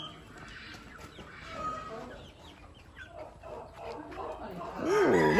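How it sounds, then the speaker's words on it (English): Chickens on a farm clucking and squawking in a pen, with a loud rooster-like call rising near the end, mixed with children and adults chattering close by. "Now look at the chickens."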